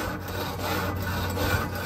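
A grill brush scrubbing barbecue grill grates in quick back-and-forth strokes, a steady scratchy rasp heard close and alone with no talking.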